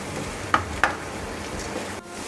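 Tomatoes salted and cooking in a pan over a gas flame turned from low to medium give a soft steady sizzle with a few sharp stirring clinks near the start, close and fairly quiet.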